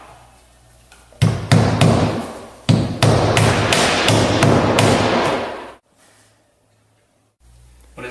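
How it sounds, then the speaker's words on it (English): Roofing nails hammered through the pre-punched holes of a Ross 65 slant back roof vent flange: a run of sharp, loud, close metallic blows in two quick bursts, then sudden quiet with a faint hum. "we now permanently attach the vent using 1¼ roofing nails in the pre-punched holes around the vent flasher"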